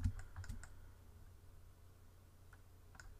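Computer keyboard keys are pressed in a quick cluster of soft clicks, then a couple more taps later, faint and close in a quiet room.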